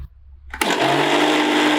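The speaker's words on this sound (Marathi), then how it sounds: "थोडस पाणी घालून परत एकदम बारीक वाटून घ्यायचं." After a brief quiet moment, a mixer grinder whirs loudly and steadily as it grinds coconut, onion, garlic, coriander seeds, fennel and turmeric with a little water into a fine paste.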